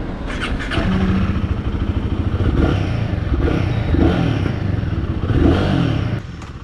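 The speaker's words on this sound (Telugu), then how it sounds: "ఎనీవేస్ ఫస్ట్ గేర్ అయితే సైడ్ బాగా సౌండ్ చేసింది" A Royal Enfield Guerrilla 450, a 2025 roadster with a 450cc single, rides along in first gear, its engine droning loud and close with steady rumble and slight revving swells, ending with a brief drop in level.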